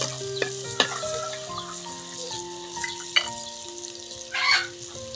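Onions sauté in a hot pan for a guisado-style miki noodle dish, with a steady close sizzle, occasional stirring clinks and scrapes, and faint background tones.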